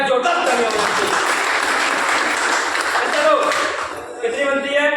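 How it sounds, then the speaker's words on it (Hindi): Loud, sustained applause from an audience at an AWPL business-plan seminar, dense clapping filling several seconds, briefly dipping before swelling again, with a voice emerging near the end. "जोरदार ताली हो जानी चाहिए।"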